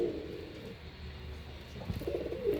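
High-flying pigeons in a breeding setup coo in low, throaty bursts, a soft stretch at the start and a louder run near the end, close by with no talking.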